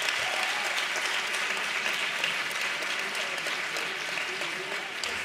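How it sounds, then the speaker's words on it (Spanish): An audience gives sustained applause for a social media coordinator during a welcome session, a thick, even wash of clapping that holds steady for several seconds, with faint voices mixed into the crowd. "vamos a pedir un aplauso también para él"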